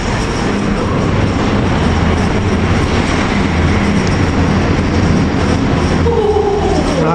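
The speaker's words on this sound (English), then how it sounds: "It's a double Voyager going to London Euston." A double Voyager passenger train bound for London Euston passes close by on a line across the Bedford Levels, a loud continuous rumble and rush of wheels and diesel engines sustained throughout.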